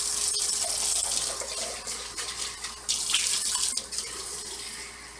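Water pours steadily into a cooking pot of turkey necks for a few seconds, a hissing, splashing stream with brief dips in flow and no talking.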